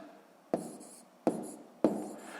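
Three separate pen strokes scratch on paper, each starting with a sharp onset and trailing off, spaced roughly evenly, as numbers are written by hand for column multiplication in a sixth-grade math exercise. Close and quiet, with no talk.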